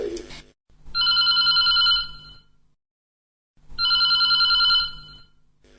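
A telephone rings for an incoming call, two identical electronic ring bursts of about a second each separated by silence, loud and close, with a brief voice at the very start.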